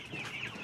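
Ten-day-old Ross 308 broiler chickens in a poultry house give a brief burst of soft, close clucking, faint and alone.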